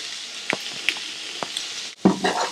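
Onions sizzle steadily in a hot pan, with a few sharp clacks and a scraping toss near the end as they are stirred, close and bright with no voices.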